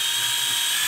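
A power drill bores a quarter-inch hole for the metal pin of a fence H brace, producing a loud, steady high-pitched whir that runs unbroken for under a second.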